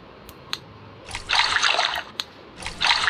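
Water pours in short bursts in an offline mobile game, two splashy gushes separated by small drip-like clicks. Moderately loud and close, with quiet gaps between the pours.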